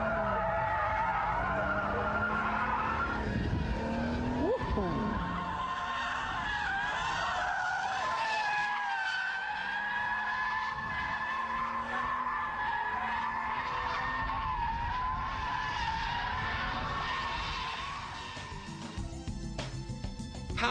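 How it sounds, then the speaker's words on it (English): A car drifts through a power slide at about 50 mph across a large open square. A loud, continuous tire squeal warbles over the engine's roar for most of the run, then tapers off near the end. "Power slides are a bit trickier than donuts, but then they are more fun too."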